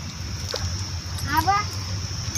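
Running water splashes and spatters as hands are washed outdoors at a small farm temple, a close, continuous sloshing with people's voices over it.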